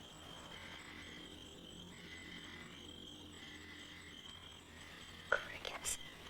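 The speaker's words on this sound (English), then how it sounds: "Crickets." Crickets chirp at night in the countryside, a steady faint pulsing trill with regular rhythmic bursts, followed near the end by a couple of brief louder sounds.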